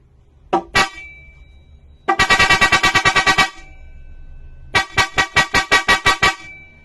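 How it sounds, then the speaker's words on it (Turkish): A modified Mitsuba car horn blasts in rapid staccato bursts: one short double toot, then two fast rattling runs of about ten pulses each, loud and close. "Kornaya bastığında çat çat çat diyecek."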